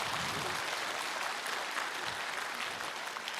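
Concert audience applauding at a choral cantata performance, steady dense clapping throughout with no break, fairly loud and close.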